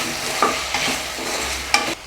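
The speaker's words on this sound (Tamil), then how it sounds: "லைட்டாக வதக்கிக்கலாம்." Ivy gourd sautéing in oil with salt and turmeric for sambar, stirred with a spoon: several quick scraping strokes over a soft background sizzle, close and fairly loud.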